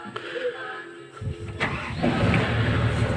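A small motor engine is started at Puraran Beach, cranking briefly before catching and settling into a loud, steady run close to the microphone.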